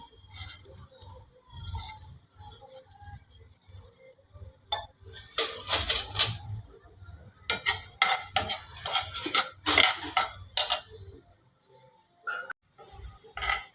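Coriander, sesame and whole spices dry-roasted in a pan, heard as repeated metallic clinks and scrapes of a spoon stirring against the pan, in irregular bursts of varying loudness.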